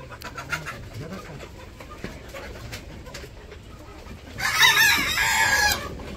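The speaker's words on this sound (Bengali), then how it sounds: "মুরগি যে ডাক গো" A rooster crows in a Bangladeshi village yard in the morning, a loud harsh call lasting about a second and a half near the end, over a background of other birds and faint household sounds.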